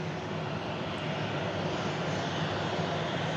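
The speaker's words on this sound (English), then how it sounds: "Ryanair UK coming in from Lisbon." A Ryanair UK airliner on arrival from Lisbon gives a steady, continuous jet engine roar, broad and fairly loud, holding evenly throughout with no talk.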